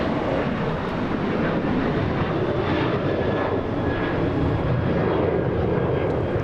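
Steady, loud roar of a Boeing 737-800 airliner on American flight 2982 bound for Chicago at Los Angeles International Airport, a broad continuous jet rumble holding level throughout without any talk.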